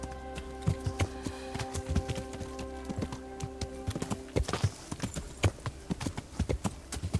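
A horse's hooves clip-clop at a steady walking rhythm in the medieval game Kingdom Come: Deliverance, even hoof taps over a soft ambient drone and light rustling.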